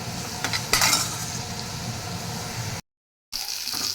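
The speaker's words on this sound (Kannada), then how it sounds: "ಕಂದು ಬಣ್ಣಕ್ಕೆ ಬರೋ ತನಕ ಚೆನ್ನಾಗಿ ಉಳ್ಳಾಗಡ್ಡಿನ ಹೈ ಫ್ಲೇಮಲ್ಲಿ ಬೇಯಿಸ್ಕೊರಿ" Onions with ginger-garlic paste and turmeric sizzle steadily in a pan over high flame for a dal tadka, with occasional stirring scrapes and a brief cut to silence near the end.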